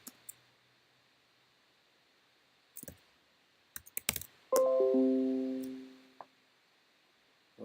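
Sparse clicks and a few quick keystrokes on a computer keyboard, quiet and close, with one short tonal beep in the middle.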